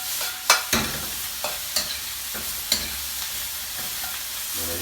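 Sauce and vegetables for satay chicken skewers stir-fry in a hot pan, a steady close sizzle broken by several sharp spatula scrapes and knocks at irregular intervals, with no voices.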